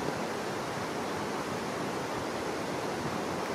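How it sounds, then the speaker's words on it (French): The Voile de la Mariée waterfall in Corsica, a continuous, even roar of falling water with no voices, steady and full throughout. "Voilà le voile de la mariée, une superbe cascade."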